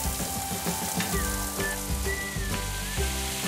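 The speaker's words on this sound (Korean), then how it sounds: "제가 옆에서 구울게요. 두 개로 구워야 될 것 같은데." Meat sizzles and crackles loudly while grilling in a pan, a dense continuous frying hiss with occasional pops and a faint clatter, with no talking.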